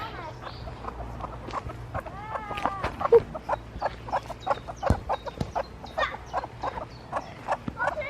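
Chickens loose in a vegetable garden cluck and chatter outdoors in short, scattered calls, fairly close, with occasional sharper squawks over a low background hum.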